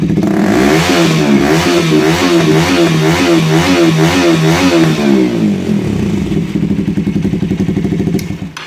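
A KTM Duke 200 motorcycle engine with an Akrapovic exhaust revs hard and close at full throttle in rising and falling surges, then drops back to a rough, lumpy idle.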